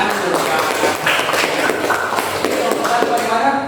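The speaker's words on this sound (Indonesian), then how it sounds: "tepuk tangan dulu" Classroom audience clapping together, a dense steady patter of many hands held at even loudness throughout, with some shuffling and taps mixed in.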